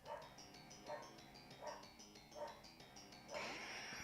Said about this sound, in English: so he's barking right now